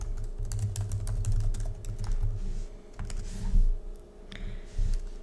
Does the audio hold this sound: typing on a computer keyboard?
yes